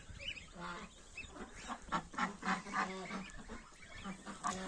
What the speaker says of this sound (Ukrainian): Качка каченят водить.